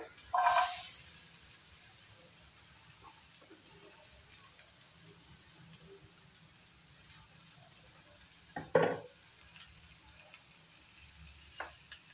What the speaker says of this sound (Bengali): প্রথমে আমি তেলে দিয়ে দিব গাজর আর আলুটা